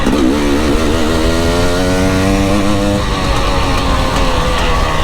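A 300 enduro motorcycle with a TSB kit and relocated injectors revs hard on a bumpy trail lap, its engine note rising and falling steadily, loud and close throughout with no talk.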